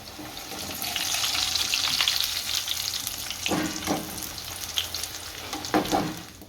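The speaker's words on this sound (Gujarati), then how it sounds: "બધા આ રીતે તળી લેશું." Poha and potato snack pieces deep-frying in hot oil, a loud steady sizzle that swells early and then carries on with a few clinks of a spoon or pan, no speech.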